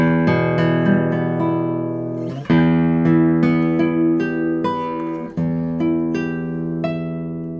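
Sustained chords on a 2024 Simon Marty electric guitar ring out clearly, with two sharp strums restriking the harmony midway, notes layered and bright, no voices.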